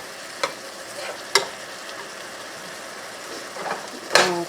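Ground beef fries in a pan, giving a steady crackling sizzle with a few sharp clinks and scrapes as it is stirred.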